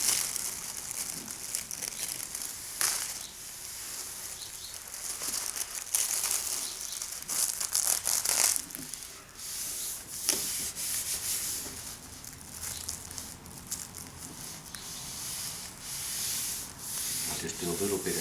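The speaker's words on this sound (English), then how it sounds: "Now all I do is slowly roll it out and rub it on as I go on the styrene." Styrene sheet having material slowly rolled out and rubbed onto it for model railway backscenes, a steady close dry scraping and rubbing with crinkly crackles and brief pauses, continuing throughout with no voices.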